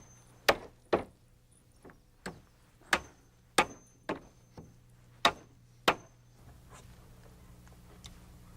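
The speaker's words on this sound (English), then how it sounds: "all I need to do is finish nailing off the risers." Hammer blows driving nails into wooden stair risers, about ten sharp, separate strikes at an uneven steady pace, close and loud, then fading into quieter room noise.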